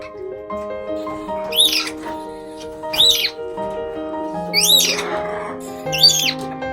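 A pet bird lets out four loud, sharp squawks spaced about every one and a half seconds, each standing out clearly above steady background music.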